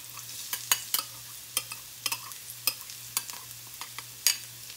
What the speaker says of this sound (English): Add the onions first. And then, we'll add the garlic.